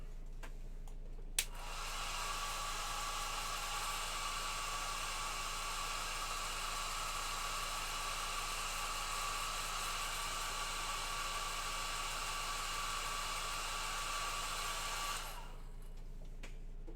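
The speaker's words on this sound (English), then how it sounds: "Hit that with the hairdryer." A hair dryer runs steadily to dry paint on a miniature figure, a close, constant whooshing roar for about fourteen seconds that switches on after a click and then cuts off, with no talking.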